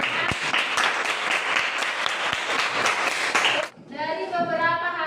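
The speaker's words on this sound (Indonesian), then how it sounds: "Tepuk tangan untuk" A classroom of students claps together in a dense, steady burst of applause that stops abruptly, followed by voices talking.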